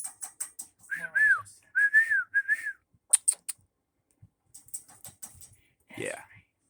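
A cockatiel mimics a seagull call, giving a few rising, wavering whistled cries near the start, then scattered clicks and a final rising squawk, loud and close.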